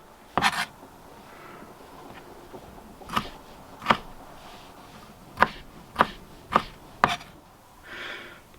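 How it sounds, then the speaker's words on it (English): A knife dices a tomato on a cutting board, with sharp, separate chops landing at irregular intervals, close and distinct against a quiet room. "Just cut my tomato across and then cut into rough dice."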